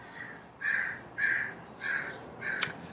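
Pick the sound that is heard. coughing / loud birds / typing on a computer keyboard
loud birds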